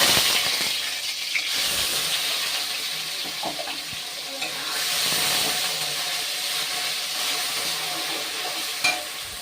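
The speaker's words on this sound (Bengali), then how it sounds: "এবার দিয়ে দেবো বেটে রাখা পেঁয়াজ।" Ground onion paste sizzles and hisses in hot oil with cinnamon, cardamom and cloves, a steady frying crackle lasting throughout with occasional stirring scrapes and small pops.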